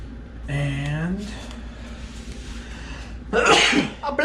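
A voice lets out a sharp drawn-in breath, a pause, then a single forceful sneeze, close and loud.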